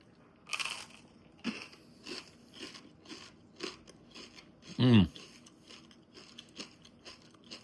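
Crunchy bites into a crusty einkorn sourdough boule, with a crisp crackle at first, a scatter of soft crumbly chewing crunches, and one louder bite in the middle.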